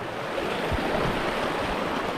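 Steady rushing water from Mount Banahaw springs in Lukban, Quezon flows continuously, a full broadband wash with low rumbling underneath and no voices.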